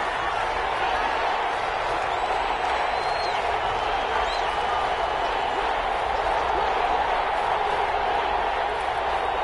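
Steady roar of a stadium crowd in a PS4 football video game, a constant dense wash of cheering that holds level throughout, with a commentator's voice faintly under it.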